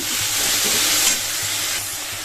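Leafy greens hit a hot pan where eggplant was just fried, giving a loud continuous sizzle with soft stirring scrapes throughout, with no voices.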